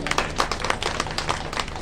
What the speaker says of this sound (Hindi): इसके लिए हम लोग को जोर से ताली उनके लिए बजाएगा।